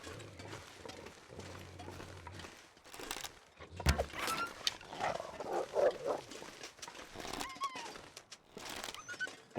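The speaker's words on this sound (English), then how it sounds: "Wolf got the deer." A wolf attacks a deer in the survival game The Long Dark, heard as snarling, growling bursts and scuffling at moderate volume, with a sharp hit near the middle and no talking.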